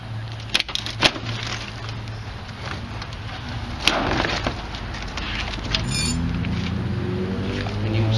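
Plastic interior clips pop loudly as a Jeep fender is pulled off for Rampage trail fender installation, a few sharp cracks near the start and another around the middle over steady background noise.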